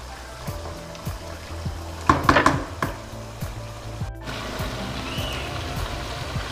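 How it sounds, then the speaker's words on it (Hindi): Apple gourd and meat curry frying in oil on a high flame, a steady soft sizzle with a louder burst of crackling and pan clatter midway, no talking. "मैंने फ्लेम तेज़ कर दिया है और इस पे अब भूनते हैं।"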